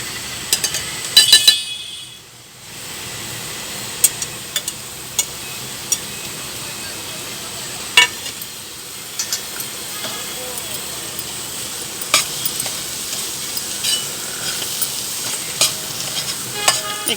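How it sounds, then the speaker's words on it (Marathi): Masala with crushed peanut and sesame powder frying in oil in a pan, giving a steady close sizzle with occasional sharp clicks of a spoon stirring against the pan. "एक 2 मिनिटं तेल सुटेपर्यंत परतून घेऊ।"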